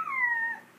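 A human voice imitates a high-pitched wolf howl, a single short wavering cry that slides slightly downward and fades, close and clear with no other talk.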